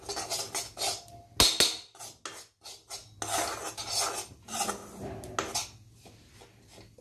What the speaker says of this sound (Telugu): సో ఈ మూడు చక్కగా బాగా బ్రౌన్ కలర్ వచ్చేటట్లుగా వేయించుకోండి.